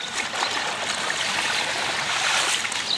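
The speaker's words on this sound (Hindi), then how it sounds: "सही प्रेशर से जा रहा है भाई पानी रोड पे" Rainwater from a storm that began at 3 a.m. rushes under strong pressure across a road, a steady close hiss of flowing water with no voices.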